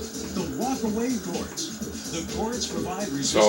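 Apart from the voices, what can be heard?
No everyday noises stand out.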